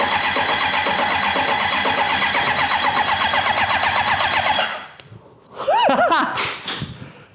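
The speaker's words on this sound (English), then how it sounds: "It cranks. Let's see if it'll fire up." The engine of a crashed formula car cranks in a loud, steady, rhythmic whir near the listener for about five seconds and then stops. A short stretch of talking follows.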